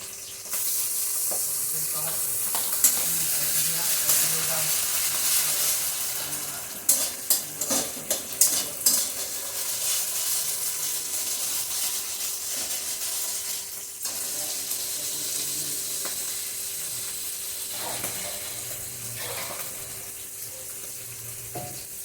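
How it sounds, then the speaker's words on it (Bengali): Ginger, green chilli and garlic paste frying in a pan for a prawn malai curry, with a steady loud sizzle throughout, stirring scrapes, and a brief burst of spattering in the middle. "এখন আমি এই যে আদা, কাঁচা লঙ্কা আর রসুন বাটা দিয়ে দিচ্ছি।"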